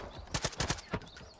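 A short burst of Far Cry 5 gunfire, around six sharp shots in quick succession, loud and close, with no voices.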